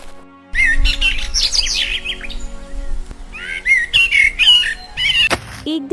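Small cartoon bird chirping, with bright, loud tweets and trilling whistles in quick bursts, mostly continuous, with a brief low whistle at the end.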